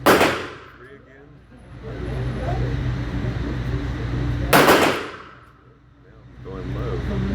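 Two sharp Sig P365X pistol shots ring out about four seconds apart at a range while a Romeo Zero red-dot sight is zeroed, each followed by a lingering echo, with faint voices between them.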